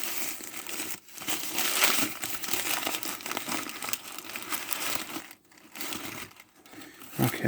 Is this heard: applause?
no